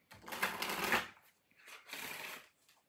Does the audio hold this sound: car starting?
no